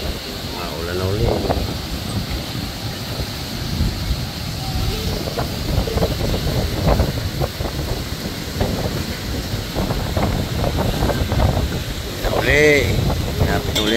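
Strong wind gusts and rumbles against the microphone in rainy weather, a constant blustery roar with louder surges while people talk over it.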